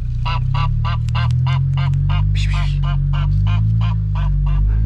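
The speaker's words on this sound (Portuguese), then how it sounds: "Olha um ganso. Esse bicho é bravo, hein?" A goose honks loudly and repeatedly in a steady rhythm, close by, over a low rumbling background.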